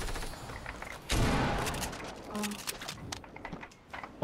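A charge shotgun fires in Fortnite, with one loud sharp blast standing out amid busy game sounds and a player talking.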